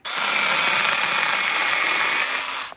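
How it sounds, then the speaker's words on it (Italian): A 500W PS550 electric mini chainsaw whines steadily and loudly close by while pruning branches, a continuous motor buzz with no pauses, winding down at the end. "accendiamola e iniziamo a potare alcuni rami insieme"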